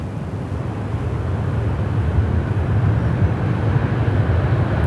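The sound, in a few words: Airbus A330-300 airliner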